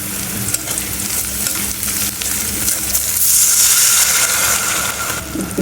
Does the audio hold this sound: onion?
yes